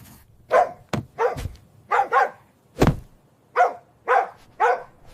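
A beagle barks and yelps in a quick series of about nine sharp, close calls separated by short pauses.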